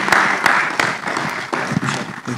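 A workshop audience breaks into applause, a loud, close, continuous patter of many hands with a few sharper claps standing out, rising and dipping slightly in intensity over a couple of seconds.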